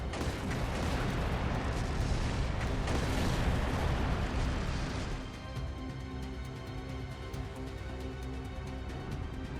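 Gunfire and explosions in the video game Trails Through Daybreak 2 during a city battle: dense, heavy blasts and crackling shots for about five seconds, then sustained quieter rumbling with ringing tones.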